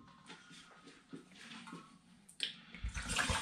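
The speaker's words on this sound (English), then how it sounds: "I just want to pour it so it's all mixing and nicely agitated" Red grape and peach wine mixture poured into a glass demijohn, a quiet trickle and splash that swells into a louder, broader gush of liquid toward the end.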